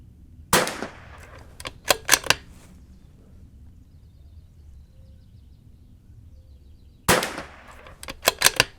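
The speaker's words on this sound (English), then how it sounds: "let me take a couple more shots here, because this is a clean barrel" Rifle gunshots at an outdoor shooting range: two separate volleys, each opening with a loud sharp crack followed by several quicker cracks, separated by several seconds of quiet, close and with no talk.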